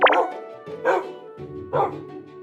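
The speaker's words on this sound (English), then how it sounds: "I came across a zombie dog" A zombie dog in the Minecraft video game barks three times in quick succession, close and fairly loud, each short yelping bark followed by a brief pause.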